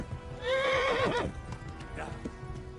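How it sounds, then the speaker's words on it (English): In the medieval video game Kingdom Come: Deliverance, a horse gives a loud, close neigh lasting about a second, followed by a few hoof clip-clops, with faint talk in the background. "That's my horse there."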